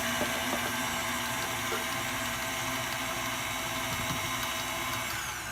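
Electric hand mixer running steadily as it mixes flour in a bowl during cabin cooking, a continuous motor whir with faint rattling, close and alone throughout.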